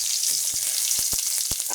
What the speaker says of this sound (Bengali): এদিকে আমার তেল গরম হয়ে গেছে। আমি তেলে দেব ফোড়ন,